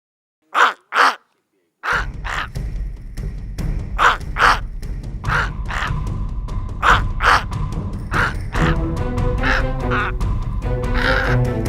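A black bird caws in a series of loud, close, harsh calls repeated at an uneven pace, first on their own and then over a low rumbling background.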